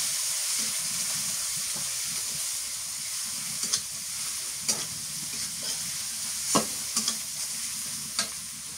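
Garlic paste sizzling and frying in hot oil as it is stirred, a steady close hiss broken by occasional scrapes and clicks of a utensil against the pan.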